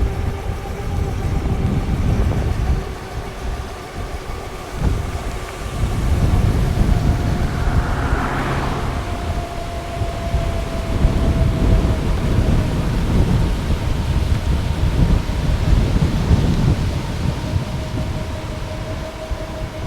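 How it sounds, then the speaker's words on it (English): Rumbling thunder and steady rain fill the air on a ride around Lake of the Isles in Minneapolis aboard an E300 electric scooter, whose faint whine runs underneath as deep rolls swell and fade over continuous wet hiss. "Now that this rain is coming in"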